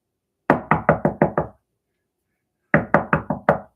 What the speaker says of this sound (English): Then comes this knock on your door.